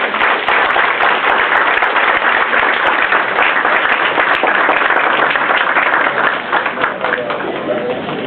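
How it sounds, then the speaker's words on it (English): An audience at the inaugural A380 flight ceremony at Singapore Changi applauds in a steady, dense wash of clapping that carries on without a break for the whole stretch. "Let's give them a big round of applause, ladies and gentlemen."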